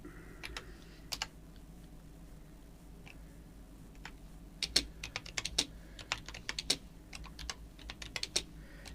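A noisy computer keyboard clatters with quick, sharp keystrokes, sparse at first and then a dense burst of rapid typing, close up over a quiet room hum.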